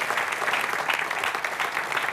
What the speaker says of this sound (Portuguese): Um aplauso para os três e bem-vindos.